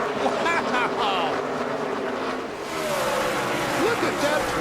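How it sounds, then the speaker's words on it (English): NASCAR stock cars racing at Dover in 2006, a loud continuous roar of engines passing with rising and falling pitch sweeps, under a crowd and commentators talking. "Look at that 12 car go."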